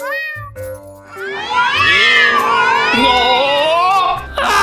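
A cartoon cat meows loudly and up close, with several drawn-out, wavering cries following one another almost without a break.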